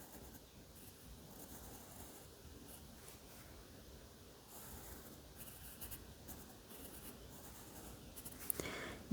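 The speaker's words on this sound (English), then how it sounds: "I'm going to draw some letters. And I'm going to kind of make them like this." A marker is drawn across paper to form letters, making faint soft scratchy strokes that come in short bursts with pauses in a quiet room, with one louder rustle at the end.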